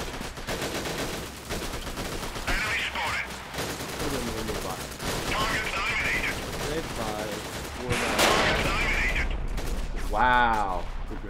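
AKM rifle gunfire in a first-person shooter game, with repeated bursts of shots running through the clip over busy game sounds, and a person talking at moments between bursts.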